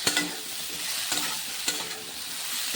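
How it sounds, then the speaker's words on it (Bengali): Brinjal is stirred into a spice mixture in a hot pan, a continuous close sizzle with three distinct spatula scrapes spaced through it. "বেগুনটাকে দিয়ে মশলার মধ্যে ভালোভাবে নাড়িয়ে নিতে হবে সুন্দরভাবে নাড়িয়ে নিচ্ছে"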